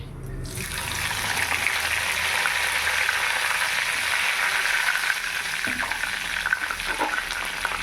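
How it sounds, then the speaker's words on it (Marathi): Steady sizzling and crackling of chilies frying in hot oil for a dhokla tempering, continuous and fairly close, with a faint clink near the end. "मिरच्या छान परत तडतडल्यानंतर त्या अशा गोल्डन ब्राऊन होईपर्यंत आपण भाजून घेऊ"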